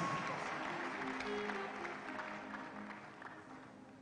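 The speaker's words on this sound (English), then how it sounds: "Clap your hands as you take your seat." A church congregation at a Sunday service claps hands as people take their seats, a continuous, fairly distant wash of applause with faint voices and hum underneath, fading slightly toward the end.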